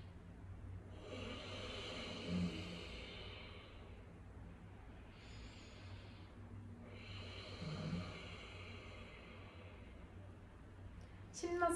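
A person imitates snoring as a breathing exercise with lips closed, making two long, raspy, breathy snores a few seconds apart. The sound is close and fairly quiet, with a short noise at the end.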